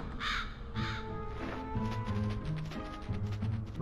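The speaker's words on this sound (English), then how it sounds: "Lots of crows." Crows caw repeatedly in the Luigi's Mansion: Dark Moon video game, loud harsh calls in a steady overlapping series over a low game ambience.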